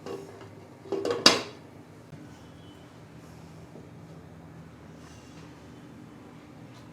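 A metal lid clanks onto a cooking pot of garlic chicken gravy, a quick cluster of rattling metallic knocks followed by near silence.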